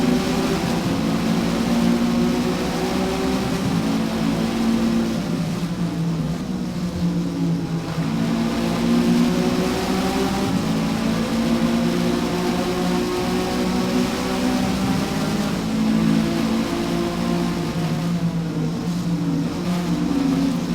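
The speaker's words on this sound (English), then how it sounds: "Getting on the accelerator as quickly as possible here, heading into the turn 15." A racing car engine drones loud and steady through a close three-car battle for the lead, with a continuous throaty roar and gentle swells in pitch as it accelerates.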